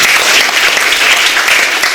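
A church congregation at a Pentecost Sunday service bursts into loud, vigorous applause for God, a full and steady clatter of many hands clapping together, close and continuous without a break.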